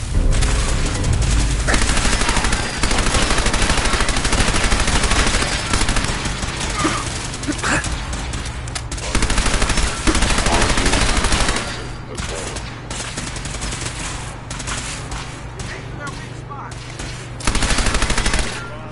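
Dense video-game gunfire from Fallout 4: rapid machine-gun bursts and booming shots fire almost continuously and loudly, in clusters that drop briefly and then surge again, with occasional voices mixed into the battle.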